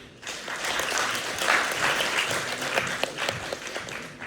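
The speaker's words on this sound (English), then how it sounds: "May we have another round of applause for all of our participants, please?" An audience at a university debate applauds after a speech with steady, dense clapping. It holds at a fairly even level for several seconds before tapering at the end.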